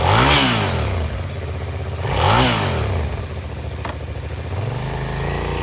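A used 2003 Suzuki SV650 V-twin sport motorcycle engine revs loudly and close up, rising and falling in two sharp throttle blips before settling into a steady idle, with no talking.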